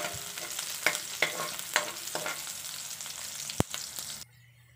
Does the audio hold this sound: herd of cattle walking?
no